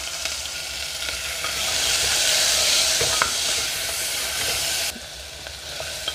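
Onions, green chilies and capsicum sautéing in sesame oil with cinnamon, cloves, cardamom and fennel, a broad steady sizzle that swells in the middle and drops suddenly near the end, close and unbroken.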